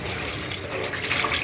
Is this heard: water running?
yes